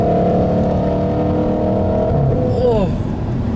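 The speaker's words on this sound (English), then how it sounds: "Oh, and it revs so fast." A 2013 Audi R8 with its naturally aspirated V8 and a resonator delete revs hard and close, the engine note climbing steadily and then sweeping quickly upward, with voices talking over it.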